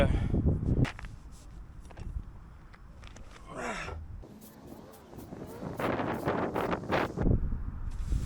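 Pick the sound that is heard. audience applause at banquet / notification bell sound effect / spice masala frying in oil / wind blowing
wind blowing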